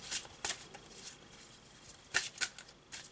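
Oracle cards being shuffled, a deck by Doreen Virtue: quiet, scattered riffles and soft slaps with a few sharper card flicks, close and alone over a faint room hiss.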